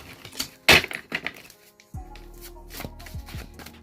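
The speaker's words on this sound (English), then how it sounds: "get a few shuffles in real quick" A quick riffle of tarot cards being shuffled, a short papery flutter followed by a few soft taps and card snaps, close and fairly quiet.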